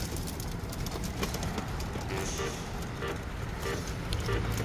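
Soft racing pigeon coos come and go against a steady outdoor background hum, with no talking, in Concepcion, Tarlac.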